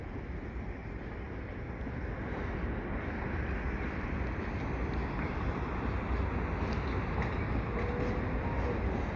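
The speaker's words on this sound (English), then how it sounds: "Here's the Amtrak train coming backwards." A continuous low rumble of an Amtrak Adirondack passenger train backing up across a viaduct at dusk, steady and broadband with wind-like noise, no distinct horn or clacks standing out.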